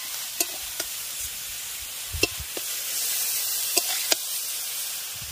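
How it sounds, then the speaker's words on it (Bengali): Spiced cabbage is stir-fried in a pan, a soft steady hiss broken by a few sharp scrapes and clinks of the spatula against the pan, with no voices. "এবার মশলার সঙ্গে বাঁধাকপিটাকে আগে খুব ভালো করে একটু নেড়ে মিশিয়ে নিয়ে কষিয়ে নেব"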